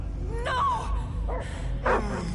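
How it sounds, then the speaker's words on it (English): Several dogs bark and yip in short bursts in the Guardians of the Galaxy video game, with three distinct barks spread across a steady low background rumble and no talking. "I hear only barking."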